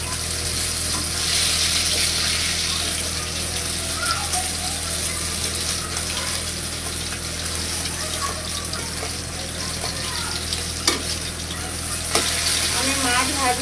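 Fish frying in oil in a kadai, giving a steady, close hiss of sizzling with a few small pops and clinks of a utensil throughout.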